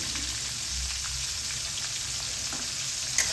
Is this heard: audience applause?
no